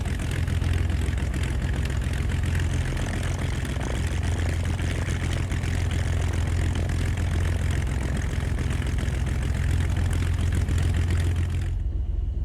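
A Carbon Cub light aircraft engine in X-Plane 11 drones steadily at low power while taxiing, a loud, constant propeller hum that cuts off abruptly near the end.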